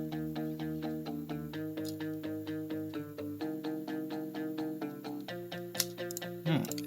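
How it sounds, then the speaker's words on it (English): A thin, high-passed guitar sample from a progressive house track, with low end stripped away, plays a steady rhythmic pattern of plucked repeating notes with bright transients, moderately loud and alone. "this is how it sounds like after cutting all the low frequencies"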